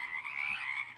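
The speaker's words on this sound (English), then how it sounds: "Talk while you're outside with the froggy frogs." Frogs croaking outdoors form a steady, dense chorus that continues without a break, moderately loud and close, with no voices.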